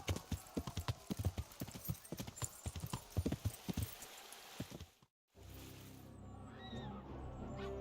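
Horse hooves in the video game Kingdom Come Deliverance clop in a quick, rhythmic gallop for several seconds, then break off, followed by quieter ambient game sounds.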